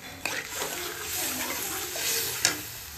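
Spiced tempering for a pakora curry tips into the pot with a loud, steady sizzle and bubbling that runs throughout, with a sharp clatter or stir near the end.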